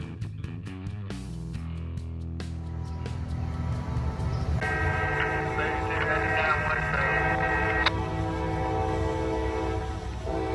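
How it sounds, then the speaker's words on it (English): A CSX coal train approaches and rumbles past on a curved railroad bridge with a steady roar, its horn sounding in long sustained blasts over the heavy clatter of wheels. "Here comes a train right now, westbound."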